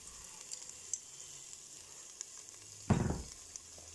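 A splash of water poured into a slow-cooker pot of Turkish lentil soup gives one short, brief hissing burst midway through an otherwise quiet, faint background.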